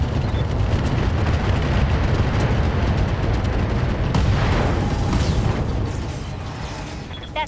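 Mech weapons fire and explode in a video game, a heavy, sustained rumbling barrage of booms that swells midway and then fades toward the end.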